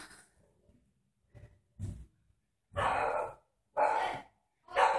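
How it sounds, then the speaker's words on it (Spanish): A dog barks indoors: a couple of soft early yips, then three loud, well-spaced barks that stand alone against silence. "El perro."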